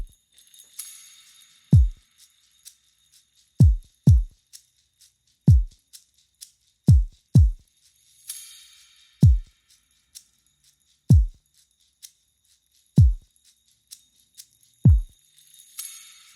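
Sparse kick drum layered with a small recorded tambourine: deep, isolated thumps land roughly every two seconds, over a faint, thin shimmer of high percussion.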